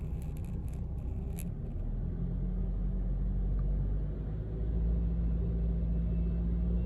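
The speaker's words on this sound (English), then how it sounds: "Let me lift the RPM." A 2012 Suzuki SX4 engine with a failing alternator, running as a steady close rumble that rises slightly in pitch and loudness as the revs are raised, with no talking.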